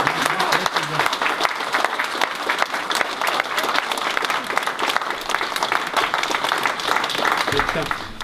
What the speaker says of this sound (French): Je crois qu'on peut de nouveau l'applaudir.